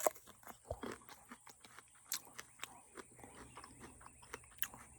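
Quiet, close crunching bites into an unripe green Thai Giant jujube, followed by a run of crisp chewing, irregular and sharp, with no talking.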